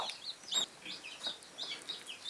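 Broody hen and newly hatched chicks cluck and peep softly, with a steady stream of faint high chirps and short clucks close by in a quiet setting.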